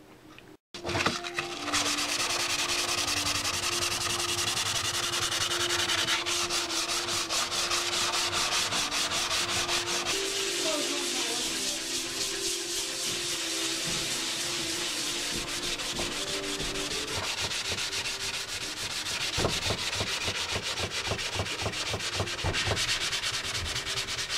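Rough primer on motorcycle bodywork during an FZR restoration is sanded smooth by hand, with continuous rapid scratchy rubbing strokes, close and steady throughout.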